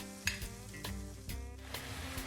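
Food sizzles on a hot sandwich press, giving a close, crackling fry with a few sharp ticks and metallic clinks over the steady hiss. The burst is short and fairly quiet.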